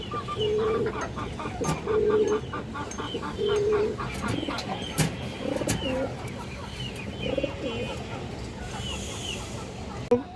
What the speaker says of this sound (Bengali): এটা পিওর একটা গিরিবাস কবুতর